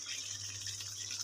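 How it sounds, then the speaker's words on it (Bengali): Hot water is poured into a pointed gourd and prawn curry, making a brief steady gushing splash at close range over a low hum. "আমি বেশি জল দেবো না, এইটুকুনি ঝোল রাখবো।"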